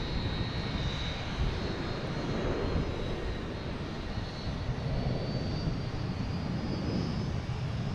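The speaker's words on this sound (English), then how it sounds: "an American landing on the close runway. Coming in from Charlotte, A320." An American Airlines Airbus A320 arriving from Charlotte lands on the near runway at Boston Logan airport, its engines a steady, broad roar that stays loud and constant throughout, with a faint high whine riding on top.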